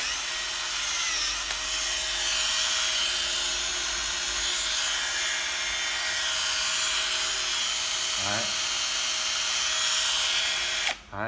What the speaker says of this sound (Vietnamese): máy khoan Natio Nan